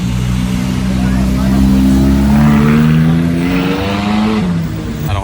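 A McLaren 570S on a Dubai plate idles after being started on a Monaco street, a loud, steady engine note that swells slightly with a revving rise midway, along with faint background bustle.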